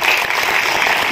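An audience claps to welcome a speaker at an Urdu community hall inauguration in Malegaon, a dense, even burst of applause lasting about a second.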